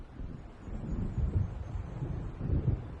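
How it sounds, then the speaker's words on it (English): Low thunder of an approaching storm in a video game rumbles steadily and fairly close, swelling in two heavier rolls over a windy, rushing background, with no talk. "It seems there's a storm coming."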